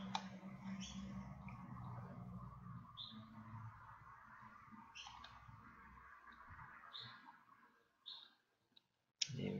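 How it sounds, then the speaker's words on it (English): A computer mouse gives a series of sharp, separate clicks at uneven intervals close by, with a quiet hum underneath and a brief near-silent gap toward the end. "Double click again, right click, copy"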